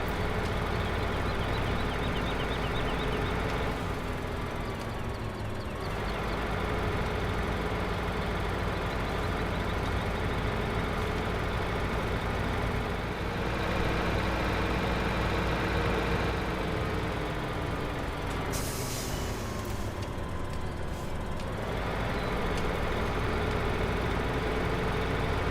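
The smallest JCB vehicle in Farming Simulator 2015 runs with a steady, droning engine hum that rises and falls slightly in pitch over a long stretch, with no talking.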